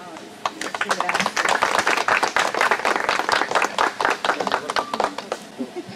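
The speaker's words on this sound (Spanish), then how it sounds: "Fuerte las palmas, por favor." A small crowd at a certificate ceremony at Cueva de Palestina claps together, a dense patter of hands that swells and then thins out toward the end, with a voice briefly heard over it.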